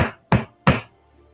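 Knocking on a door: three sharp, loud raps spaced evenly about a third of a second apart, close by and alone, followed by brief quiet.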